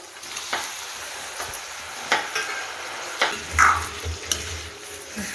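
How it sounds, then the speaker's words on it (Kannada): Chicken pieces stirred into fried spice powder in a pan for a pepper chicken dry, a constant close sizzle with scattered utensil scrapes and light knocks. "ಈಗ ಚಿಕನನ್ನು ಹಾಕ್ತಾ ಇದ್ದೇನೆ."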